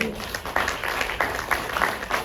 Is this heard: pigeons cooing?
no